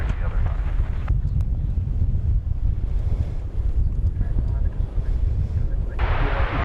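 Strong wind buffets a microphone outdoors at DFW airport, a steady loud low rumble with gusty swells throughout and a brief hiss of broader noise near the end.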